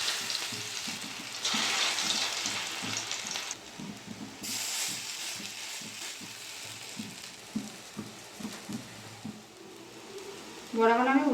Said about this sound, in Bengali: তেল গরম হয়ে গেছে, বড়াগুলো ভেজে নেব।